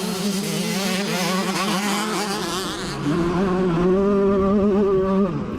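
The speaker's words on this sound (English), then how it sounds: "This is what dirt bike racing is all about." Motocross dirt bikes, including a Honda CR125 two-stroke, race past with a loud high-pitched engine wail, revs rising and falling and two machines overlapping closely throughout.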